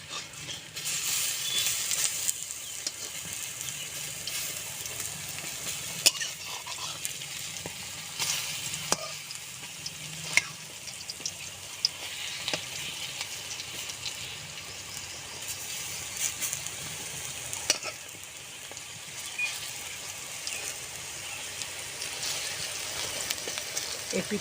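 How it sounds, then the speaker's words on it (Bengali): Bora fritters frying in oil for a panta bhat meal, a constant bubbling sizzle with scattered pops and occasional utensil clicks over a long stretch, moderately close. "এই পিঠটা সুন্দর করে ভেজে নেব।"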